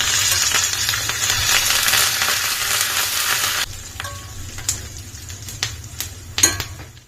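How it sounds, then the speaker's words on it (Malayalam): Curry leaves drop into hot oil with browned garlic and ginger for grape pickle, giving a loud dense sizzle that cuts off sharply, leaving quieter crackling and a few metallic clinks from a utensil, close up and without speech. "ഇനി നമുക്ക് കുറച്ച് കറിവേപ്പില ഇടാം."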